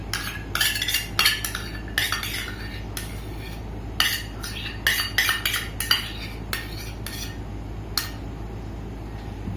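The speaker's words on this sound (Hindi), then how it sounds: "इससे मैं हाफ कप से घी ले लूंगी" A half-cup metal measuring cup scrapes and clinks while scooping ghee, sharp irregular metallic taps and knocks close at hand, scattered over several seconds.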